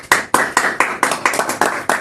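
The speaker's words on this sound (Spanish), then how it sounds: "Dale un fuerte aplauso a nuestro Señor Jesús." A church congregation applauds at a worship service, a steady run of loud, close hand claps repeating about every quarter second for the whole stretch with no talk over it.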